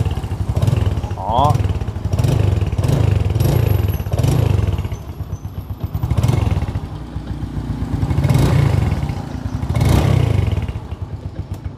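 A used Yamaha Sirius motorcycle with a stock fuel-injected engine idles and revs in a dealer's lot, its pulsing mid-range putter swelling and easing repeatedly while someone talks over it.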